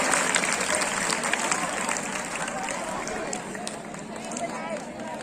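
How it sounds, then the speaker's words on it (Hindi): A crowd at a school Independence Day celebration claps loudly and continuously, a dense wash of applause with a bustling, noisy background that slowly eases. "जोरदार तालियों से"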